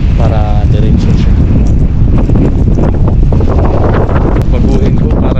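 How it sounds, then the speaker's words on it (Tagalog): Loud, steady wind buffets the microphone on Mt. Naupa peak in Naga, Cebu, a dense low roar with faint voices partly buried beneath it. "Hangin."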